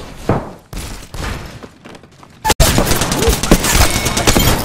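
DMR rifle gunfire in the video game Apex Legends: loud, heavy shots and impacts in a chaotic firefight, with sharp cracks amid thuds and clatter, intensifying after a brief gap.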